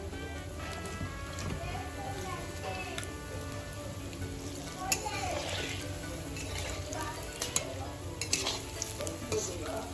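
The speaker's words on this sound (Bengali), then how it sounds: "লাল লাল করে ভেজে নিতে হবে।" Palm fruit fritters (taler bora) fry in hot oil with a continuous close sizzle and bubbling, stirred now and then with small clinks, while a voice talks over the cooking.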